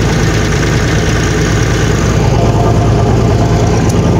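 Up close, a Bizon combine harvester's engine idles after a cold start in frost, giving off a loud, steady, low rumble with a fine rhythmic chug that holds evenly throughout, with no voices.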